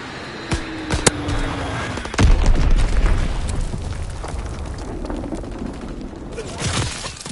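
Heavy booms and blasts from Azon bombs in a console war game, with a sharp pop early on and a deep rumbling impact near the middle that lingers under a steady wash of battle noise.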